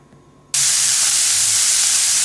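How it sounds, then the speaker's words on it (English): Minced beef, half a kilogram at a time, hitting a hot pan for cottage pie, bursting into a loud, steady sizzle about half a second in and hissing on unbroken to the end, with no talk. "I'm going to start by frying 1 kilogram of minced beef."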